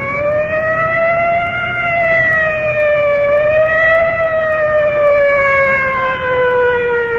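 A loud wailing fire engine siren rises and falls slowly and continuously, close by and steady, with no talking, as a fire department squad rolls in at night.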